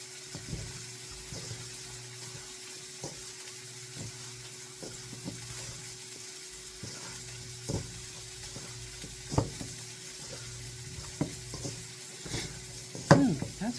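Seasoned sausage meat being stirred and mixed as it fries in a pan, a low steady sizzle broken by scattered scraping and clacking strokes of the utensil, louder near the end, with no voices.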